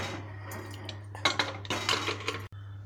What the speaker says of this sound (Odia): ତା କଭର ମୁଁ ଦେଇଦେଉଛି